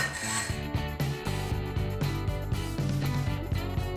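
Hand saw cutting through aluminium or copper in long strokes with light pressure, a close, rhythmic rasping with evenly spaced back-and-forth strokes.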